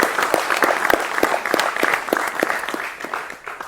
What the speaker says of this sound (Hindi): जोरदार तालियों से स्वागत करें सर का